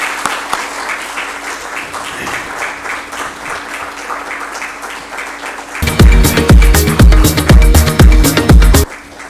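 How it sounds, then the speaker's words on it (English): An auditorium audience at a talk by an edtech founder bursts into loud, dense clapping partway through, the applause swelling full and continuous for about three seconds before cutting off. "kindly occupy the dais so that everybody can see you, with a round of applause"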